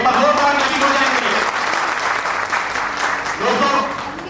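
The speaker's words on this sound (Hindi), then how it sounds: "एक बार जोरदार ताली हो जाएगी।" An audience gives a loud, sustained round of applause to welcome a company guest at a program, with a voice speaking over the clapping near the start and again near the end.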